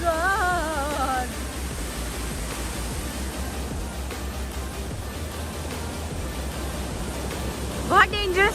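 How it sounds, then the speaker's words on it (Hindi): Water gushes hard from a gate on a river in Nepal, a dense, steady roar like heavy surf filling the scene throughout, with a person briefly talking over it. "बहुत डेंजरस पानी निकल रहा है यार"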